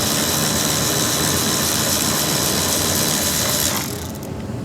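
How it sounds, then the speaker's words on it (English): Ratchet with a deep socket loosening a side mirror nut on a 2000 Mercury Grand Marquis, a dense, fast, close clicking whir for about four seconds that then drops away, no talking. "You need a deep socket for this, by the way."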